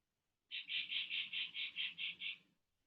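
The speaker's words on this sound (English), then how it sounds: "And listen to the birds singing." A rapid series of about nine bright, evenly spaced chirps, close and clear against near silence.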